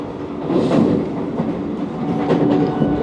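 Vande Bharat Express train running on rails, heard from inside an AC chair car: a steady low rumble with rhythmic clickety-clack of wheels over rail joints, moderately loud and without talk.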